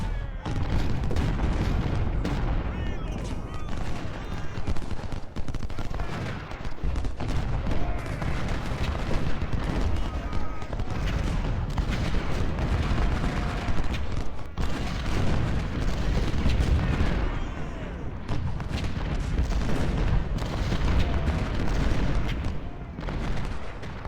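Artillery fire in the Civil War video game Ultimate General Civil War: a continuous barrage of heavy cannon booms mixed with crackling volleys of gunfire, loud and dense for the whole stretch with no pause.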